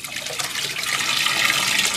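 Water pours steadily from a Python cleaner hose into a home fish tank, a continuous bright, hissing gush that builds slightly louder over two seconds.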